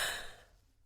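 A single deep breath, a soft airy exhale that starts strongest and fades over under a second, close and quiet with no talk.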